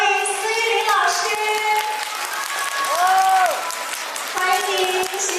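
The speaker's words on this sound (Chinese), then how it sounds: "让我们热烈的掌声欢迎司玉林老师" Warm audience applause fills a Yue opera event in welcome of a Shanghai Henan opera performer, steady clapping from a crowd with faint voices and music lingering underneath.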